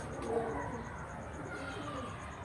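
A fine-breed breeder pigeon coos in soft, low, repeated throaty phrases, close by, against a faint room background with a hint of distant voices.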